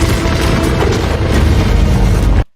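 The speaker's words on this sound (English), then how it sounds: "So when the massive explosions do come," A loud, sustained roar of massive film explosions rumbles continuously, deep and heavy, then cuts off abruptly.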